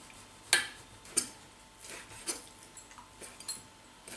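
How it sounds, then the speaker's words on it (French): Knife slicing bacon strips into lardons on a board: a few sharp, separate chops with quiet gaps between them, close and fairly soft. "on va également couper nos tranches de lard, nos tranches de poitrine en lardons"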